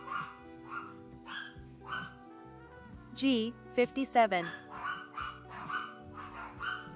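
Puppies barking and yipping in a few short bursts behind a bingo caller's voice, with some whimpering, fairly close.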